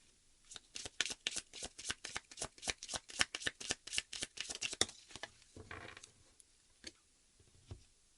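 Oracle cards shuffled by hand in a quick run of about twenty crisp, close riffling flicks over five seconds, followed by a few softer scattered taps and handling sounds.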